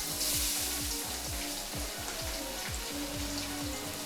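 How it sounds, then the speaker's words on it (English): Cinnamon and chopped onions fry in hot oil, a dense, steady close sizzle with a fine crackling texture that runs unbroken throughout, with no voices. "Once the oil is hot, drop in the cinnamon and those chopped onions."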